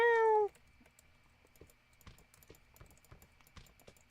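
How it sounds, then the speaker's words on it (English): A cat in a Minecraft game gives one loud, clear meow right at the start, then falls silent under steady computer keyboard typing clicks. "He just goes meow."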